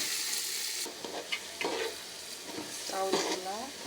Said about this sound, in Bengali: চাউলগুলা এখন সুন্দর করে ভাজবো।